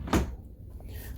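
A single desk drawer slides open in an interior cruise ship cabin, one short close scrape and thump followed by quiet room tone.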